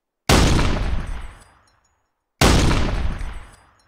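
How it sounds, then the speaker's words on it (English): Two artillery rounds fire in the Arma 3 video game, each a loud, sharp blast with a long decaying rumble, about two seconds apart, heard with no talk. "so I can put down a little spot and fire off a couple rounds."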